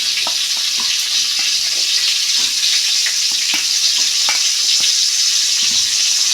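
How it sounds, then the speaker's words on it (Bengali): Cauliflower pieces fry in hot oil in a home kitchen, giving a loud, continuous sizzle dotted with sharp crackles and pops and the occasional stirring scrape. "কপিটা তখন ভাজা হোক"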